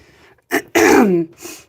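A short cough followed by a harsh, drawn-out throat clearing, close and loud, with no talking.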